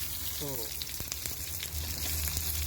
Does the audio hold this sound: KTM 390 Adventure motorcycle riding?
no